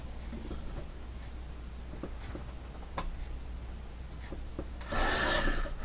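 Edge of a paper print trimmed by hand: faint, soft scraping and light ticking cuts over low room noise, ending in a brief louder rasp.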